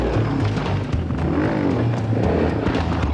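A dual sport motorcycle pulls away on a New England trail ride, its engine revving loudly and steadily close by with a rising and falling drone throughout.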